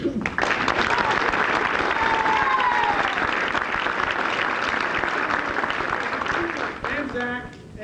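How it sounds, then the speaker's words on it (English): Guests at a high school football awards banquet applaud loudly and continuously, the clapping swelling early, holding steady, then thinning out toward the end. "So I'm ready to applaud"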